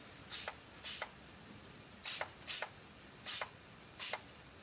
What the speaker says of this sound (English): now when we spray on the water